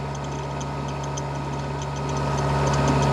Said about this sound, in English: Engine's struggling away.